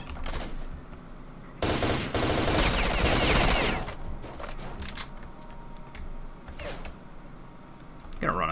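Automatic gunfire in the video game S.T.A.L.K.E.R. Shadow of Chernobyl: a loud sustained burst lasting about two seconds, followed by a few shorter, quieter shots.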